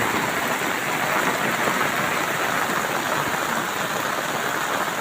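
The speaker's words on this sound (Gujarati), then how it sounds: "આજે જોરદાર મેઘરાજાએ મહેર કરી છે" Heavy monsoon rain pours down in a steady, dense hiss in Udra, Patan district, Gujarat, loud and constant throughout, with no voices or breaks.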